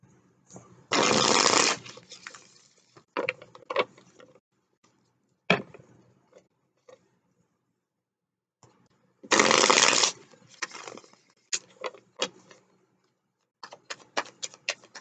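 Tarot cards are riffled in two loud, short bursts of shuffling. Between them come scattered snaps, taps and slides as cards are handled and pulled, with quiet gaps.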